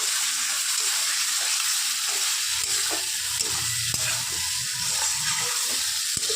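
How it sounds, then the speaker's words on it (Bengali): Boiled new potatoes, halved and drained, sauté with spice masala in a pan while being stirred for an egg curry, giving a steady close sizzle and frying hiss with soft scraping stir sounds throughout. "এবার মশলাটার সাথে আলুটা ভালো করে কষিয়ে নিচ্ছি।"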